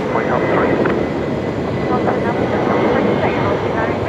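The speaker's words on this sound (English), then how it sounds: "Big Kev doing a great job of the pushback as always" Aircraft being pushed back at Brisbane Airport at night, a steady broadband engine and ground-equipment roar filling the scene, loud and continuous, with people talking over it.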